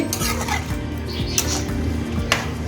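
A spoon scrapes and clinks around a pot of drumstick and brinjal curry in a repeating rhythm, several stirring strokes over a low, steady background hum.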